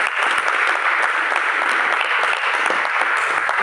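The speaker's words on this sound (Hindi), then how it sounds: "जोरदार तालियां होनी चाहिए।" Loud, dense applause from a large audience at a business recognition gathering, a steady unbroken roar of many hands clapping that fills the whole stretch with no talk over it.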